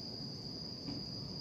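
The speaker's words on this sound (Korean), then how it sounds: "귀뚜라미, 여치 난리가 났네요." Crickets and katydids chirp at night before a typhoon in a veranda garden. Their high insect trill is steady and continuous, with a faint low rumble of ambience underneath.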